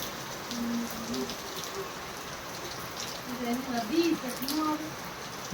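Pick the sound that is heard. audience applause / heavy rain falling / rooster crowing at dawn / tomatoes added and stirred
heavy rain falling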